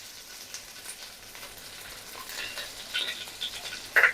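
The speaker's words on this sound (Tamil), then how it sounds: "இப்போ வந்து நம்மளோட கருவேப்பிலையே வறுத்துக்கலாம்" Fresh curry leaves frying in a hot pan, a soft steady sizzle and crackle throughout with a brief louder spitting burst near the end.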